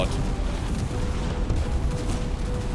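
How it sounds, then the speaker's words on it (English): Cannon fire booms in the fantasy video game Tainted Grail, dense low rumbling blasts rolling continuously against battle noise. "Ah, it's cannon fire."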